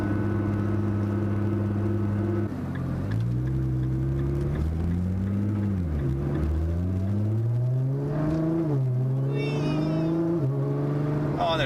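An Alpha 7 Nissan GT-R accelerating hard, with a loud, continuous engine drone whose pitch climbs through the gears, drops briefly at each shift and rises again, heard from inside the car.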